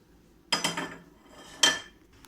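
A metal pan being readied for heating oil for garlic pickle gives two sharp, close clattering clanks about a second apart, with quiet between them.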